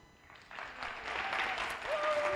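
Audience applause in a hall for schoolchildren at a junior dictation contest, a steady wash of clapping that swells and holds, with a faint tone and light voices underneath.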